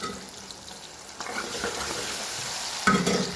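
Tomatoes fry in a pan with salt and a pinch of turmeric, a steady close sizzle running throughout, broken by scraping stirs and a louder clatter near the end.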